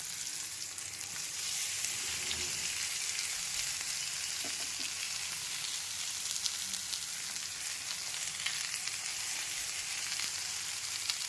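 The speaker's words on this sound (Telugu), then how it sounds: "ఇప్పుడు మనము ముల్లంగి వేసుకుందాం." Sliced radish fries in a pan, a steady bright sizzle with soft stirring scrapes, alone and moderately quiet throughout.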